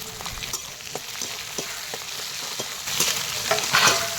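Onion, peas and capsicum stir-frying in a pan for a spiced bird-meat curry, with a steady crackling sizzle and repeated scraping stirs that grow brighter and louder near the end.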